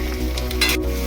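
Onion, tomato, ginger and garlic frying in a hot pan, a continuous close sizzle with a brief brighter crackle burst partway through.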